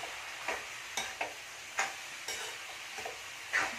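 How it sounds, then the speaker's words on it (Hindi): Poha being stirred with a spoon in a pan, a soft grainy scraping that comes in about seven separate strokes, each spaced around half a second apart, with no voices present. "ये देखिए मैंने पोहा डाल दिया है और इधर मैं इसको चला लेती हूँ चम्मच से"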